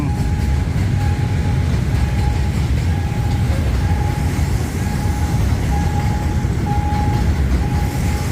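A loud, steady rumble of a Hitachi diesel locomotive hauling a container train, with continuous rolling wheel noise and a faint repeating high whine throughout.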